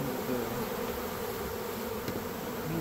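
A honey bee swarm being captured and relocated, a dense continuous buzzing of many bees, steady and close, with no voices.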